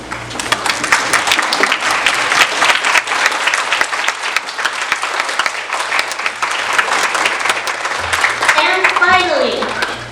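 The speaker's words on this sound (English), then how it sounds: "give a big round of applause to all of our supporters tonight" Graduates at a spring commencement ceremony applaud their supporters, a long sustained crowd applause with scattered cheers and voices mixed in, and a speaker's voice rising near the end.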